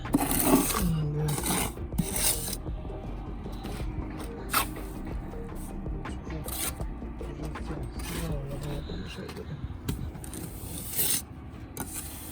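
The toothed edge of a trowel scrapes across fresh stucco on a house wall in repeated rough, rasping strokes, close by and uneven in rhythm, with people talking around it.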